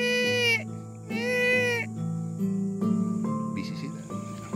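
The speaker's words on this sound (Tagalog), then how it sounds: "Ito ang tunog ng kambing." Goats bleat on a farm resort, several loud, wavering cries close by, repeated with short pauses, over a steady low background hum.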